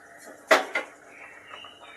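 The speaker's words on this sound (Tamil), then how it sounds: "பாத்திரத்தில் கடாயை வச்சுக்கோங்க. கடாய் நல்லா சூடாகட்டும்." A kadai (wok) set down on the stove to heat for aval upma, two quick metallic clanks close by, the first louder, then quiet room tone.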